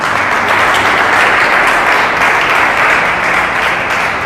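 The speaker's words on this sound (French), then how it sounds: "Acclame très fort pour Jésus" A church congregation applauds loudly in a sustained, even burst of clapping during a worship service, dense and continuous for a few seconds.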